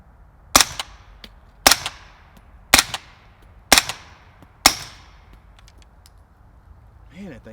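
Suppressed GHM 9C carbine firing five evenly spaced shots about a second apart, each a sharp crack with a brief decaying tail, followed by a short burst of voice at the end.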